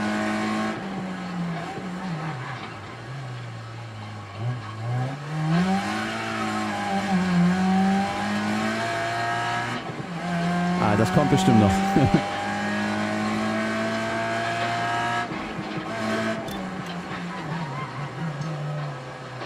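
Race car engine droning and shifting pitch while the tires lock and squeal under braking in the Assetto Corsa Rally driving game, loud and continuous, with someone talking over it.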